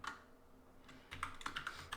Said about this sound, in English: I will type Biswas